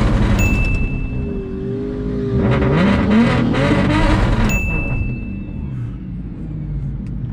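A 750HP BMW 135i race car with manual transmission accelerating hard, a loud close engine roar climbing in pitch through the gears, then easing back.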